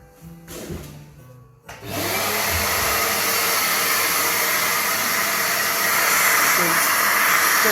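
A Dewalt sander running with dust suction starts up after a quieter moment, then holds a loud, steady roaring whir close by for the remainder.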